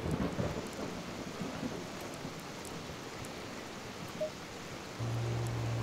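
Steady rain hisses with a low rumble of thunder beneath it in the racing game Assetto Corsa Competizione, even and continuous, before a low hum abruptly joins near the end.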